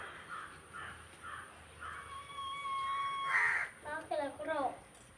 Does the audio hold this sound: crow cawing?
yes